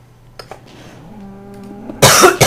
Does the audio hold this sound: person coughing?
yes